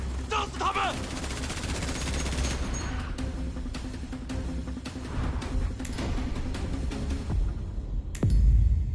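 Battle scene in a Chinese suspense drama with bursts of gunfire, a fusillade of sharp cracks spread across the first few seconds and scattered shots after, followed by a heavy boom near the end, with voices underneath.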